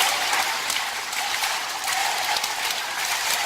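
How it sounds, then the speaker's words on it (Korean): A church group at a retreat recreation game claps together in a quick, even rhythm, a crowd of many hands sounding loud and close with no talking. "자, 박수 열 15번 시작."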